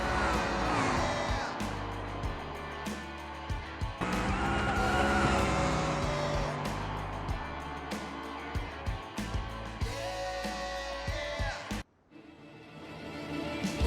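A car in the BeamNG driving game drives fast with a loud engine and squealing tires, steady under occasional clicks, then cuts off briefly before resuming.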